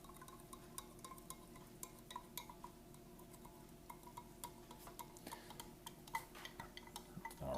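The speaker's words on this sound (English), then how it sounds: "Take our knife and stir it up." A knife stirs Chili Mac MRE inside its plastic pouch, giving quiet, irregular scraping and clicking, soft throughout with a faint steady hum behind it.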